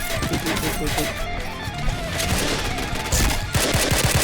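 Gunfire in the online shooter Point Blank: rapid automatic bursts and repeated sharp shots, loud and close, continuing throughout with a voice talking alongside.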